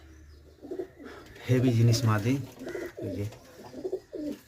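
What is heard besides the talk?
pigeons cooing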